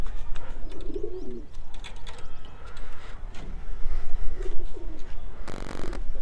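Pet pigeons cooing on a rooftop, soft repeated coos close by with other birds chirping faintly in the background and a brief burst of noise near the end.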